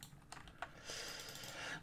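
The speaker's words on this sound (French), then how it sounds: "J'espère que vous entendez pas trop mon... Pas trop mon clavier." Computer keyboard typing during a Yu-Gi-Oh! deck-building session, with quiet, scattered key clicks at low level in the background.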